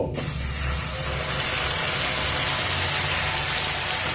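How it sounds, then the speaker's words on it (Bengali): Spice paste dropped into hot oil in a pan while cooking a vegetarian paneer and cabbage dish, giving a loud, steady hiss and sizzle that begins abruptly and continues throughout. "এবার এখানে আমি যে মশলা পেস্ট করে রেখেছি সেই মশলা দিয়ে দেব"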